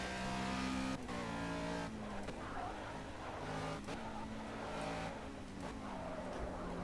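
Race cars at Bathurst in a sim racing game produce a continuous high engine whine with gear shifts and revving, along with tire noise and engine notes that rise and fall.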